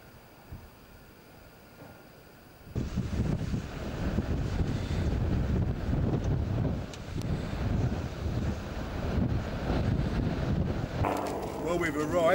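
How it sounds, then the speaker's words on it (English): Strong wind buffets the microphone on a clifftop car park above Sennen Cove in Cornwall, a sudden loud, continuous rumbling roar after a quieter start, gusting steadily with no clear voices. "we've arrived and it's bloody windy"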